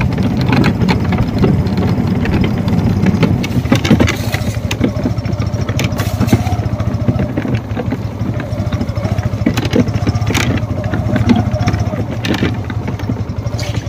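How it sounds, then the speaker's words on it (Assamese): A motorcycle engine runs steadily and loudly throughout as riders head off toward a tea garden in Golaghat, Assam, with a low continuous drone and passing wind noise. "আমি এতিয়া তিনিটা যাওঁ মটৰচাইকেলত"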